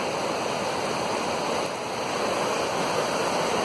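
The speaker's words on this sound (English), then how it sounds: "This river's higher than it is supposed to be." A river running higher than normal, a steady broadband rush of flowing water that stays constant and fairly close, with no voices.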